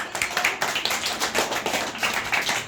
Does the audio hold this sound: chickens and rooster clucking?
no